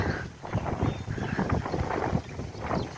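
Strong wind buffets the microphone in heavy, uneven gusts, a constant roaring rumble with rustling bursts throughout.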